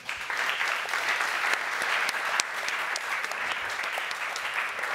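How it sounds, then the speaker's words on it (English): An audience at a freight-sector policy panel in Berlin applauds the panelists, a steady, even wash of clapping that continues throughout without voices. "I think you all deserve a round of applause again."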